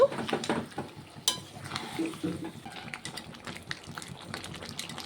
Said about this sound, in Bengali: জলটাকে দিয়ে একটু নেড়ে ছেড়ে দেব